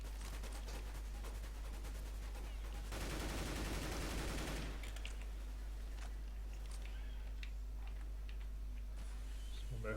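Gunfire in CS:GO, a dense burst of rapid shots lasting a couple of seconds, with scattered clicks and game noise before and after over a constant low hum.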